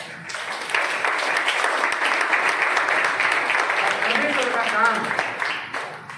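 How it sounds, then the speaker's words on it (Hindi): A congregation at Daya Sagar Church in Phagwara, Punjab, claps with both hands in a sustained, moderately loud wash of applause, with voices faintly audible beneath it. "दो हाथ से ताली ऐसा बजाइए"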